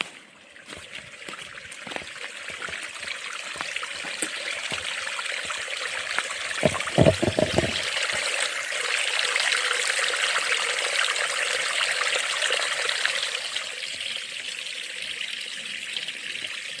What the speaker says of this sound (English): That might be a little mini waterfall up here.